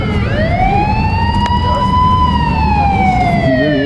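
A loud wailing siren sweeps up and holds, close by, over the steady rumble of a moving vehicle.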